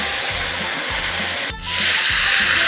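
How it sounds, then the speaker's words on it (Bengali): Potato, drumstick and pointed gourd sauté with ground spice paste and a splash of water in a pan, making a loud, steady sizzling hiss that briefly dips in the middle and then swells again. "এবার মশলার সঙ্গে ভালোভাবে কষিয়ে নেব"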